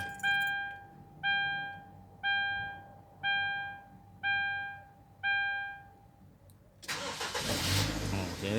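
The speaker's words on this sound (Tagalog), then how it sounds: "Itong sasakyan na to, talaga kung pag in-start nyo, one click." A car engine catches on the first turn of the key. Six evenly spaced electronic beeps come first, then a sudden loud start that settles into a close, rumbling idle.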